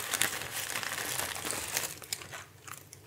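Dry leaves crumbled by hand and scattered over an aquarium for a paludarium setup, a close, crisp crinkling and crunching that comes in quick bursts and then thins to a few scattered crackles.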